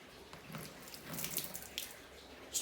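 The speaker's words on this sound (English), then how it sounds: "So if I pour this water on the leaf there, Ellen," Water poured over a plant leaf in a glasshouse, trickling and running off in a soft, steady splatter with faint droplets, close and quiet, with no voices.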